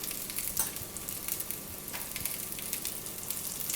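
Crushed garlic, dry chilies and turmeric powder sizzling in hot oil with mustard seeds, a steady close crackling fry with sharp little pops scattered throughout, no talking.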